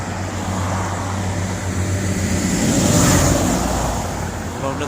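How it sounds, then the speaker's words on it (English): Steady traffic on a busy road in Ireland, a continuous roar of passing cars close by that swells slightly toward the middle, with no speech heard. "So it's quite a busy road, and we have to wait a few minutes to see can we get across."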